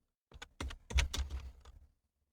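Fingers type a short burst on a computer keyboard, a quick run of close, crisp key clicks lasting under two seconds before stopping, with no talking over it.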